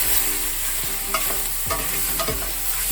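Meat sprinkled with salt cooks in a pan for a Sicilian Sunday meat sugo, giving a steady close sizzle with a few soft stirring knocks and scrapes.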